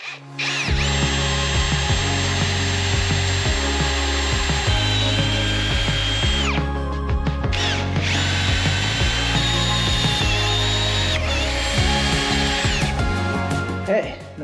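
Power drill working on snowmobile parts, running in several long high-pitched whirring bursts with brief pauses and pitch shifts as the bit bites, loud and close, without talk.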